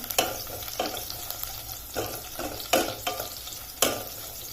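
Curry leaves sautéing in hot oil for a tomato rasam, a soft continuous sizzle broken by several distinct scraping stirs of a spoon in the pan, no talking.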